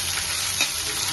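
Freshly pounded ginger paste fries in a pan for chicken curry, giving a steady, close sizzle with a brief louder crackle partway through as it is stirred.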